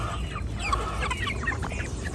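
An Americana hen with rust and gray feathers clucks repeatedly in soft, chattering calls on a farm, over a constant low barnyard rumble.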